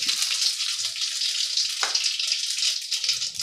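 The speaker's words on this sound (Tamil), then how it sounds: "கடாய் சூடாகிடுச்சு ரெண்டு ரெண்டு குழிக்கரண்டி ஆயில் விடுறேன் கடுகு போடுறேன் உளுத்தம்பருப்பு" Mustard seeds and urad dal crackle and sizzle in hot oil in a kadai, a bright, steady frying hiss up close with a brief scrape partway through.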